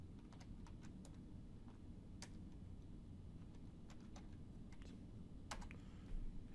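Typing a group name on a computer keyboard: scattered, faint key taps in short clusters over a steady low hum, quiet and close with no speech.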